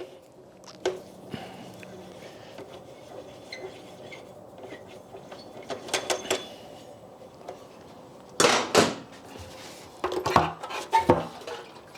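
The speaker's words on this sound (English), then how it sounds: "We got one bolt up top to take out to get the gas tank off." A wrench loosens the gas tank bolt on an old Honda CM250 motorcycle left sitting in a garage. Faint metallic clicks and taps give way to a few louder clanks near the end.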